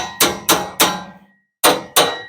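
Hammer blows during restoration work on a 1970s vintage camper RV: five sharp metallic strikes, three in quick succession, a brief pause, then two more, close and loud with no talk.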